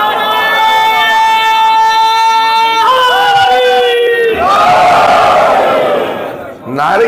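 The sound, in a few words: crowd chanting religious slogans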